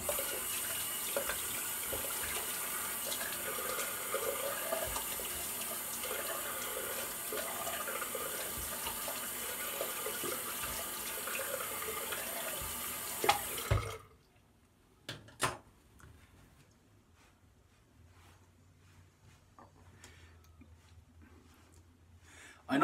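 A tap runs steadily for about fourteen seconds while someone rinses after a shave, then shuts off, leaving a few faint drips and small splashes in a quiet room.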